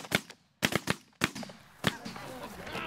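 Gunshots on a hunt: rapid sharp reports in uneven clusters, fairly close and loud, with brief voices in the pauses.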